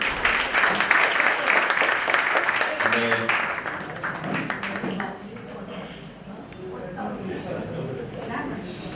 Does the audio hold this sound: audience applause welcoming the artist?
yes